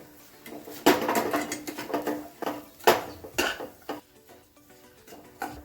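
Kathiyawadi desi churma for ladoos is mixed with grated coconut, raisins and fried edible gum in a vessel, giving close, uneven clatters and scrapes of a utensil against metal.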